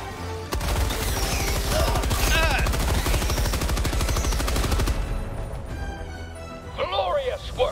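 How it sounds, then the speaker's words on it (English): A machine gun in Helldivers 2 hammers out a long, rapid, continuous burst for several seconds, loud and close, then stops as game sounds and a voice take over. "The big gun's out. The machine gun."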